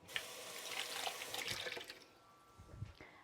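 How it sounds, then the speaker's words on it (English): A dish is rinsed under a kitchen tap, a short burst of running, splashing water close by with a few small knocks of the dish, then easing off toward the end. "I'm going to rinse out that dish because I want to put that Thai sauce in there"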